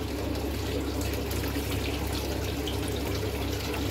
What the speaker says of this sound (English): now we've got to fill it up with water, so I'll go get the watering can